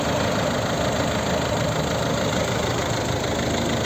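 A 2009 Ford C-Max 1.6 diesel engine idles steadily with a dense, even rumble and clatter, close by and constant throughout.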